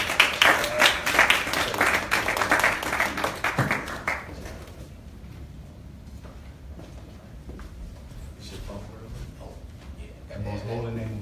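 A Nation of Islam lecture audience applauds a student minister, loud dense clapping for about four seconds that then fades into quieter scattered taps and room noise, with a voice starting near the end.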